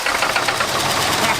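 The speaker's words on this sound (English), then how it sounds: "let's see if it cranks" A barn-find Mercury Cougar engine, left unstarted for 40 years, cranks with a loud, rapid rhythmic chugging and knocking as it turns over, heard up close without speech.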